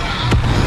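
A single sharp blast from the Expulso spell in Hogwarts Legacy lands as one brief, loud burst over a steady bed of game ambience.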